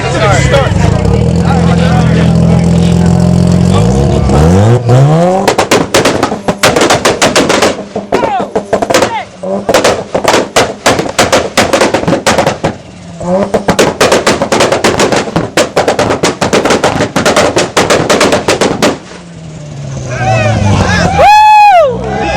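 A very loud Mazda RX-7 FD rotary engine roars and revs on a two-step launch limiter with rapid popping bursts, crackling like gunfire, then a high whine rises at the end.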